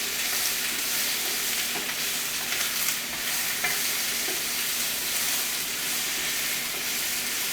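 Olives sizzle and fry in a hot pan alongside potatoes and get stirred, giving a steady, close crackling hiss that continues evenly with no talking.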